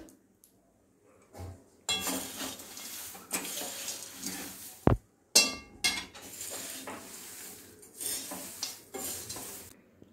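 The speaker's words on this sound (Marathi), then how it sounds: "ह्या मनुका सुद्धा घालणार आहोत आणि परत एकदा चांगलं परतून घेणार आहोत" Thin poha chivda with raisins, dried coconut and cashews being stir-fried in a pan, with repeated scraping and clinking of a spatula against metal in bursts and a soft sizzle underneath.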